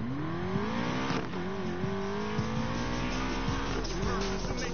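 BMW race car in the video game Need for Speed Payback, engine holding a steady high drone with rising pitch as it accelerates, gear-shift dips and brief tire squeals, loud and close throughout.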